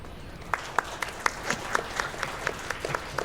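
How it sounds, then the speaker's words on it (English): Sparse applause from a small audience at an RPG Limit Break 2022 speedrun marathon event, a handful of distinct hand claps rising above a quiet room rather than a full ovation. "please give a huge round of applause"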